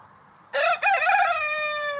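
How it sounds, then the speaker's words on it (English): A rooster crows nearby in a morning farmyard, one loud, clear cock-a-doodle-doo that breaks in after quiet, dips briefly, then holds a long drawn-out final note. "Oh, that's a lovely crow."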